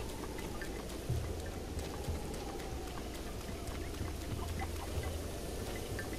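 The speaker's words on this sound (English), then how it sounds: "Looks like rain today." Steady rain falls in the open world of Zelda: Breath of the Wild, a continuous soft hiss with no voices over it.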